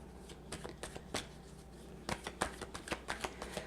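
Tarot cards being shuffled by hand, a run of crisp riffling flutters and soft card slaps in irregular bursts, close and fairly quiet, with no talking.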